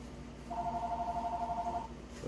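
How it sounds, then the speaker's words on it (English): A landline telephone ringing indoors during a craft project, with one steady electronic ring tone lasting over a second, faint to moderate and heard alone. "Oh, there goes the phone."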